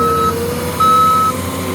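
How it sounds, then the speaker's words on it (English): Loud, high electronic reversing beeps sound twice, each a sustained tone over a forestry mulching truck's steady engine rumble. "I'm sorry you're getting that loud beep."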